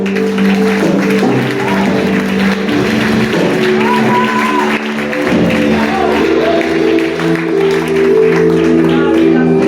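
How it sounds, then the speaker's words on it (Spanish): Steady applause from a large church congregation fills the space, dense and continuous, with a sustained musical tone running underneath. "Denle un aplauso a Dios."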